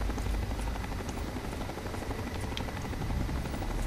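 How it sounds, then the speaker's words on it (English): Constant low rotor thrum of a helicopter in the video game Fallout 3, steady and fairly loud throughout, with a dense buzzing wash and no speech. "The helicopter is kind of driving me nuts now."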